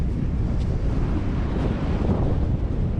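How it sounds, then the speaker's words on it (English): Strong wind buffets the microphone on a rock by the cliff at Piha's black sand beach, a continuous low rumbling roar with surf noise beneath and no speech. "It's windy."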